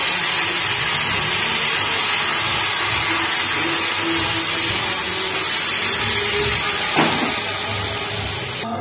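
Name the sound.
pouring into hot oil tempered with cumin, dried chilli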